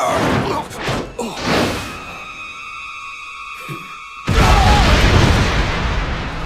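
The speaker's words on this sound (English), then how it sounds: "Was that a bomb?" A sudden loud blast bursts in after a tense pause in the Fullmetal Alchemist Brotherhood anime, a dense roaring rumble that holds strong to the end, following earlier thuds and a sustained ringing tone.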